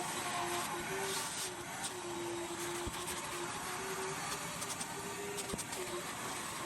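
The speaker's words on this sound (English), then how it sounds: "we're gonna go ahead and vacuum this one all up" Vacuum cleaner working over a couch, a steady close whine and rushing airflow with a faint tonal hum, running continuously throughout with occasional brief knocks.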